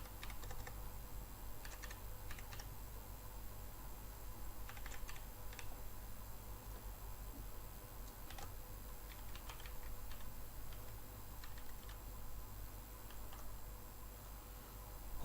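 Someone types a password on a computer keyboard: faint, scattered key clicks in short bursts over a quiet, steady room hum.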